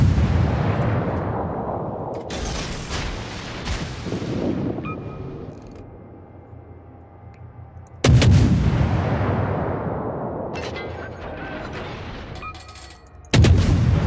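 Heavy bursts of naval secondary battery fire from warships in World of Warships roar out in a few booming salvos, each decaying into a long rumbling tail over a steady low engine drone, no voices.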